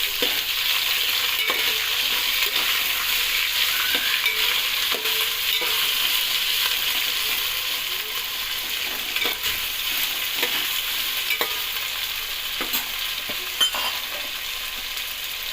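Carrot pieces and green chillies are stirred in a hot frying pan for a veg biryani, giving a steady, close sizzle with scraping spoon strokes throughout and no voices.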